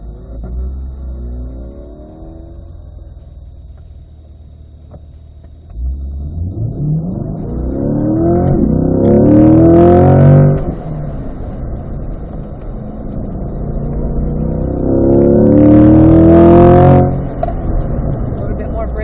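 Car engine accelerating twice as the driver eases onto the throttle out of a corner at a performance driving school track, each rising rev swelling loud then falling back, with faint talk between pulls.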